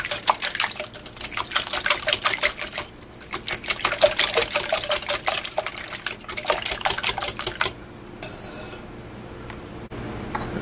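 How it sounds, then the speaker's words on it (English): Eggs with salt and black pepper whisked for a frittata, rapid rhythmic clicking of a whisk against a bowl in close bursts, pausing briefly before trailing off into quieter handling. "and whisk again"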